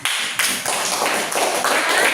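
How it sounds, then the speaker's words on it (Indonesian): A classroom group claps hands together, a dense loud burst of many overlapping claps with a few sharp accents, sustained for a couple of seconds close by. "Dan sekarang tepuk tangan"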